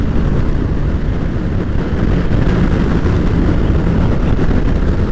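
Wind roars loudly and continuously over a 2020 Kawasaki Ninja 650 KRT Edition at riding speed on a windy day, a dense, even rush that masks any other sound, with no talk.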